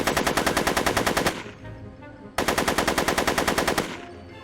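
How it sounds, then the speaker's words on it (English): Rapid automatic gunfire in Back to the Future: The Game comes in two loud, rhythmic bursts of evenly spaced shots separated by a short pause, heard at close range with no talk. "Are you shooting at me?"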